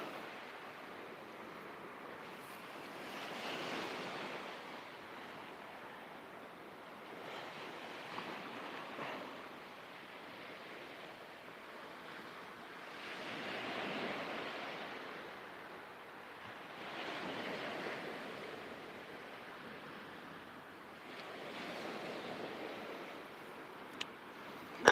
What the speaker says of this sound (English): Wind's getting up a bit.